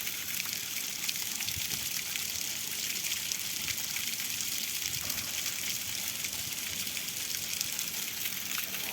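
Muddy water gushes steadily from a borewell at an indoor sports stadium, a continuous broadband rush that holds the same level throughout with no speech.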